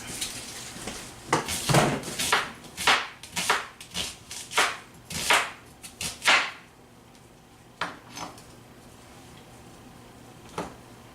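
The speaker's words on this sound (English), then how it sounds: "We're just going to slice this guy up." Knife slicing an onion on a cutting board for chili, a steady run of crisp, close chops about a dozen strong, then a pause and a few scattered cuts.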